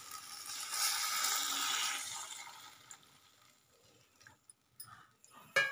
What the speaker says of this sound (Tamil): புளித்தண்ணி சேர்த்துக்கலாம்.